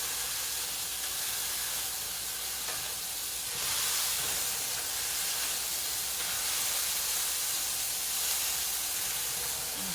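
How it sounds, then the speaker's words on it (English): Low carb Big Mac smash burger patties, three at a time, sizzling in a hot pan, a constant loud hiss of frying fat that swells slightly midway, with no talking. "I'm going to do 3 at a time in here. And I'm just going to mash it like that."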